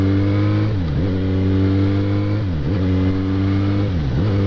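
Yamaha XJ6 motorcycle cruising in sixth gear at about 4000 rpm, a steady loud engine drone with strong harmonic hum and brief dips in pitch every couple of seconds.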